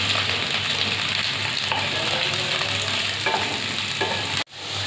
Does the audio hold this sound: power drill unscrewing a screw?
no